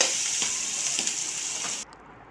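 Mustard seeds fry in hot oil with a bright, steady sizzling hiss and faint pops, close by, before the sound cuts off abruptly near the end.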